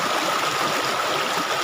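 Fresh stream water flows over rocks in a steady, close, fairly loud wash of rushing and trickling water that continues without pause.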